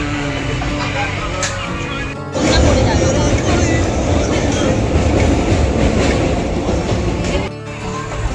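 A train rumbles loudly nearby at a Kolkata railway station, a dense rolling roar with rattling cars that swells after a brief lull, with voices faintly mixed in.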